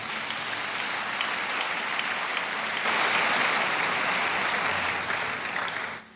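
A church congregation breaks into sustained applause, a dense wash of clapping that swells midway, holds for several seconds and then drops off abruptly.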